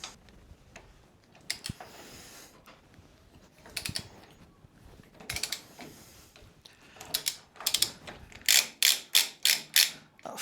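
A torque wrench tightens the rear axle nut on a KTM 690 SMC R motorcycle, close clicking ratchet strokes that start sparse and build into a loud, regular series of sharp clicks near the end.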